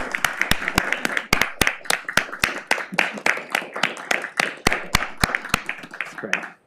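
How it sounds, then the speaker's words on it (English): Audience at a city council meeting giving a round of applause, sustained scattered clapping from a modest crowd, close and fairly loud, fading out at the end. "Let's everyone please join us in giving Laura a big round of applause."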